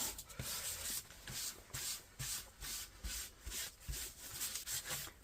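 Paint is rubbed in over a raised stencil, a soft rhythmic scrubbing of short brushy strokes repeated about every half second, quiet and close with no talking.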